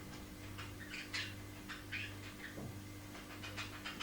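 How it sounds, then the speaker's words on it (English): A ten-year-old pet cat vocalizes quietly indoors, several short meow-like calls spaced irregularly over a low steady hum, faint and close with no talking. "It's fantastic, my cat."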